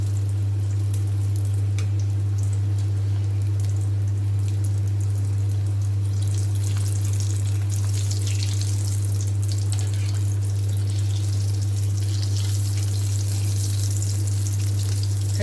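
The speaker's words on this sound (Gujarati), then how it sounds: "બસ આપણે આવી રીતે બધા જ તળી લઈશું" Batata vada frying in hot oil, a dense continuous sizzle that holds steady throughout and grows slightly busier toward the end, over a loud constant low hum.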